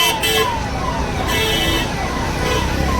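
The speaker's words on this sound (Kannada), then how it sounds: "ಆಂಬುಲೆನ್ಸ್ ಅಲ್ಲ, ಸಾರಿ, ಪೊಲೀಸ್ ಜೀಪು. ಅವರಿಗೂ ತಲೆಗೆ ಸೈರನ್ ಹಾಕೊಂಡು ಹೋಗ್ತಿದ್ದಾರೆ" A police jeep passes with its siren wailing in rising and falling sweeps over busy street traffic and crowd noise during a Mahashivaratri festival in Shimoga, loud and close throughout.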